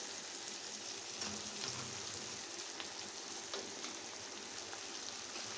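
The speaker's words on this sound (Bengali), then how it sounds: "সোয়াবিনটা এর মধ্যে দিয়ে আবার খানিকটা ভালো করে ভেজে নিচ্ছি" Soybean chunks fry in hot oil along with potato, onion and tomato, giving a steady, dense sizzle with faint stirring clicks throughout.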